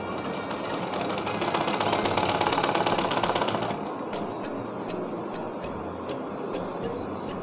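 A sewing machine stitches a blouse sleeve in a rapid, steady mechanical rattle for about four seconds, then stops, leaving light clicks and faint room noise.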